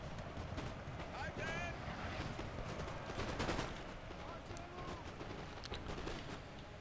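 Artillery and musket gunfire in the Napoleon: Total War video game, a dense distant rumble of shots and booms under a continuous noisy battle ambience, with someone talking over it.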